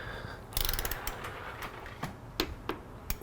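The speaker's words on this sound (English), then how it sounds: "So the torque wrench is already set from the last ones that we did." A torque wrench tightens a bolt on a motorcycle front wheel, giving a quick burst of close ratcheting clicks followed by a few separate sharp clicks spread over about three seconds.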